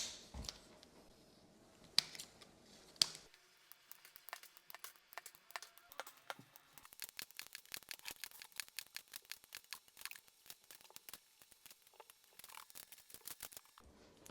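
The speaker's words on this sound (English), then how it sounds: "So we're gonna snip all the way down on both sides and remove all these." Scissors snip through plastic mini-blind slats, producing a quick string of small crisp clicks and cuts, close and quiet, with a couple of sharper snaps early on before steady rapid snipping.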